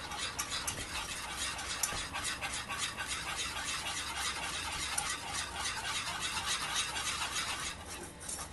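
Caramel being stirred very fast after baking soda is added, a continuous rapid rasping scrape of the spoon in the pot that stays close, dense and even throughout, with no voices.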